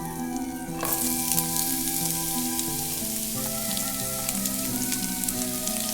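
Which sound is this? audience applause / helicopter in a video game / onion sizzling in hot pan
onion sizzling in hot pan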